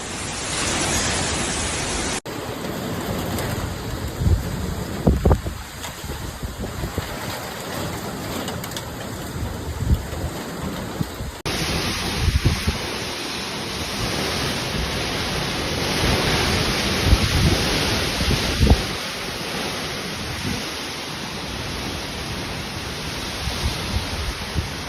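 Torrential rain and violent wind from Cyclone Garance on La Réunion roar as a dense, constant wash with gusty swells and occasional knocks, loud and close throughout, with no voices.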